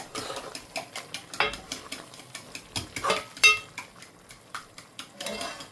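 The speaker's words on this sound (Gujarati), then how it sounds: "ચાલો મેથી ફેરવીને જોઈ લઈએ આપણે" Fenugreek greens cook gently in a metal pan beside dry fish curry, stirred with a utensil in repeated close scrapes and clinks over a faint low sizzle, with no voice.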